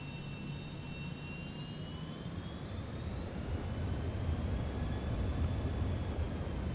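A Cessna Citation X business jet taxiing on the ground in Flight Simulator 2024, its turbine whine steady and continuous, with the low rumble rising slightly partway through.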